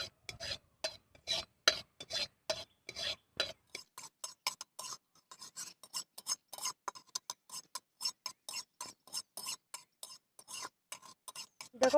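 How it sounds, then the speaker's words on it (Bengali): Sugar is stirred in a pan to make caramel for homemade yogurt: a steady series of quick scraping strokes of a spoon against the pan bottom, close and fairly quiet, with brief pauses between bursts. "এবার আমি নাড়াচাড়া করে এটা ক্যারামেল বানিয়ে নেব।"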